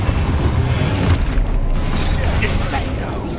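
The Expulso spell goes off in the video game Hogwarts Legacy as a loud, booming explosion with a sustained roaring rumble and crackling debris mixed in.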